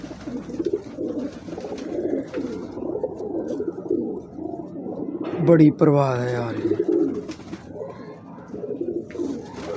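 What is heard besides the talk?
teddy pigeons cooing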